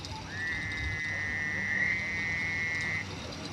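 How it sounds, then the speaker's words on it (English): A single frog gives a long, steady, high-pitched trilling call, moderately near, over quiet outdoor background noise at a lakeside fishing tournament. "I think it may be the same frog that was there during the bank Iron Cat"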